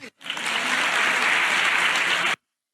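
Dense, loud applause fills the Spanish parliament chamber, a steady wall of many hands clapping that starts abruptly and cuts off after about two seconds.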